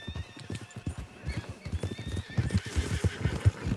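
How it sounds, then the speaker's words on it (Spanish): In Red Dead Redemption 2, a herd of wild horses gallops with rapid, rhythmic hoofbeats close by, with neighs and whinnies mixed in and no talk over them. "Ay, esos son caballos salvajes,"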